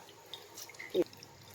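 Water drips from squeezed curd in a muslin cloth: a single soft drip, faint against a quiet background.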